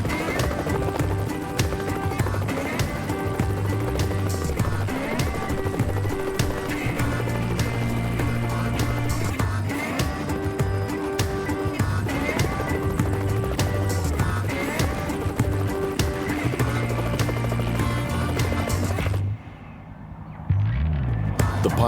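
Herd of wild horses in rough Australian country, galloping hooves thudding in a steady drumming rhythm with neighs cutting through, loud and continuous before a short lull and a renewed burst at the end.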